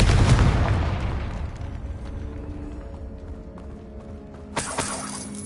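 Fiery Confringo spell blast in Hogwarts Legacy, a loud burst at the start that decays over a few seconds into rumbling, followed near the end by a sharper crackling impact.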